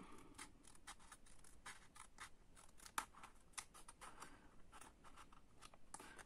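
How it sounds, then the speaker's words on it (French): Small scissors cut scrapbooking paper in a quick series of crisp, close snips and slicing strokes, quiet and steady, with no voices. "On va aller découper toute cette partie-là"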